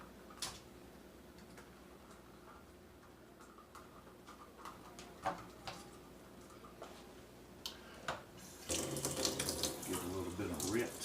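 Tap water running over onions being rinsed in a sink: a steady, soft splashing stream with light taps and clinks, growing louder and fuller toward the end.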